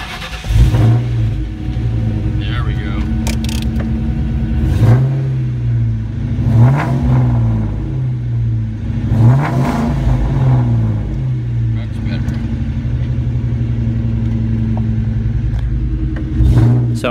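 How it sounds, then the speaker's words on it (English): A 2001 Mustang GT with Borla Stinger exhaust fires up for the first time, then settles into a loud, deep idle with several throaty revs rising and falling, heard alone. "first startup with the Borlas"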